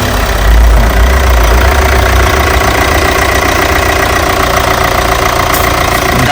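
A 2017 Hyundai Creta diesel automatic idles close by with the bonnet open, its engine running in a loud, steady, slightly knocking clatter with a low rumble throughout.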